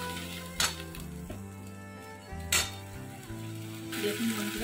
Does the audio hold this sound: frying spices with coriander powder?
yes